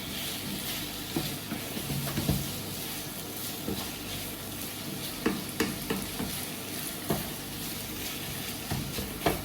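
Chicken pieces with basil, rosemary and oregano sauté in a pan, a steady close sizzle broken by occasional stirring scrapes and clinks.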